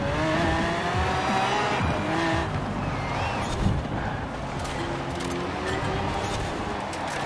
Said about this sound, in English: Come on, stop wheel spinning.